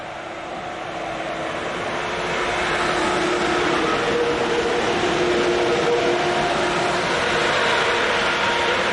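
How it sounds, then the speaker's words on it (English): ICE train 402007 on the Hamburg to München service rolls into a station with a steady, broad roar that builds and holds, near and loud, with no voices. "This is the 1353 from Hamburg to München, arriving with 402007 providing the leading power, with set number 8 on the rear."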